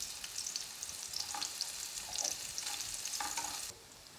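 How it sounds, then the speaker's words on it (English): Chopped onions sauteing in olive oil in a medium pot, giving a steady close sizzle and frying crackle with a few louder spits, which drops away abruptly near the end. "I'm going to add my onions to saute now."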